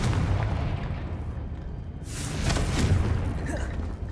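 A Confringo fire spell goes off in Hogwarts Legacy, a loud, rumbling blast whose heavy low roar swells midway into a bright crackling burst, then fades over a lingering boom.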